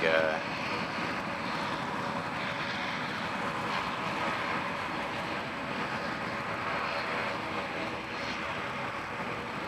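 A steady, broad engine roar of a plane passing overhead, holding fairly loud and even throughout with no pause.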